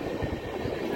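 The Pinakini Express pulls out of Singarayakonda station with new coaches, a continuous low rumble of rolling wheels and faint rhythmic clatter heard close from on board.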